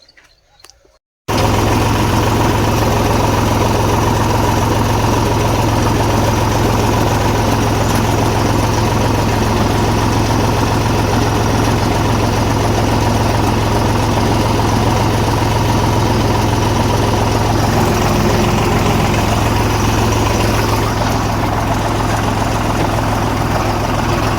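After a brief quiet start, a tractor engine with a rap leveller attached starts up and runs, a loud, close, steady diesel drone with a low hum and vibration that holds unchanged to the end.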